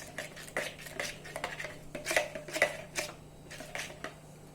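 A utensil clinks and scrapes against a container as green color is stirred into melted clear soap base, irregular close taps with a faint steady hum beneath.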